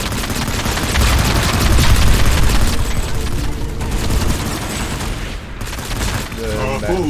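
A frag grenade blast booms out amid constant rapid gunfire and explosions during a Planetside 2 firefight. The low boom rises in the middle of a dense, loud, unbroken wash of battle noise that carries on to the end.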